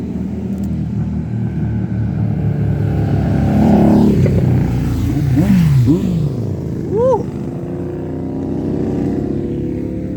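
Superbikes roar past on a mountain road near Tiger Point, their engines loud and rising then falling with a doppler sweep, one after another over a steady rumbling background, no talk.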